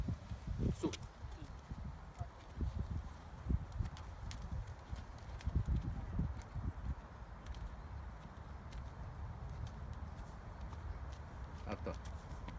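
Horse cantering during a riding lesson in an arena, with soft rhythmic hoofbeats on footing that stay fairly quiet and steady, while an instructor's voice talks over them.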